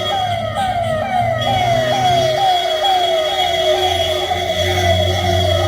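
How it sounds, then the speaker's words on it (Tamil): An ambulance siren passing along a town street near the Kallada River in Punalur, a loud, repeated rising wail over steady traffic rumble that runs for the whole stretch. "ஆம்புலன்ஸ் போகுதுங்க."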